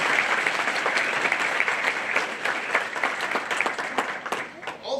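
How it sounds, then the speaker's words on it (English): A convocation audience at Heritage University applauds its board members, with steady, dense clapping across the room that tapers slightly toward the end, and some voices murmuring underneath. "if we could just give a round of applause to all our board members"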